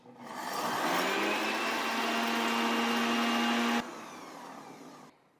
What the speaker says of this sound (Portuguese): Vou fazer isso nesse liquidificador porque ele é muito bom para isso